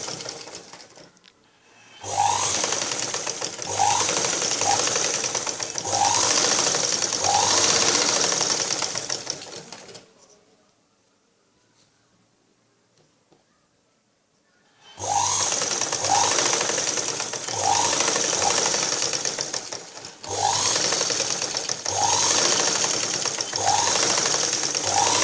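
A sewing machine stitches a blouse in two long, busy runs of rapid needle clatter, separated by a quiet pause of several seconds, with no talking.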